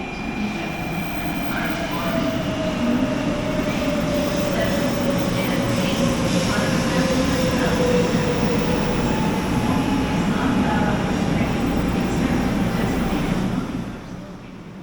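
A Japanese high-speed train rolls steadily into a station with a continuous rumbling roar and a faint whine that slowly falls in pitch, easing off near the end.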